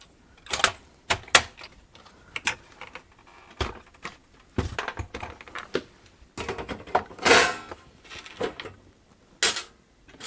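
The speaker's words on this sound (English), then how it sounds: "we'll clip the front panel back on" Plastic front panel of a National NV-G30 VCR being clipped back onto the chassis, heard as a run of sharp, close clicks and snaps at irregular intervals with small handling knocks between them, and no talking.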